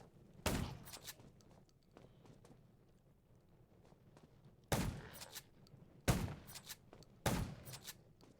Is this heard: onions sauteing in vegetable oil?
no